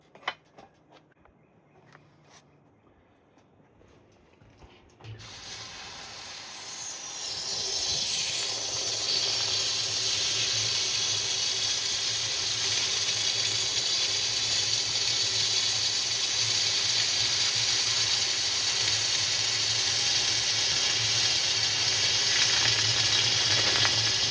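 A hot .999 copper ingot dropped into water sets off a sudden loud rush of steam that settles into a steady, sustained hiss lasting many seconds, close and unbroken, after a quiet lead-in with faint handling sounds.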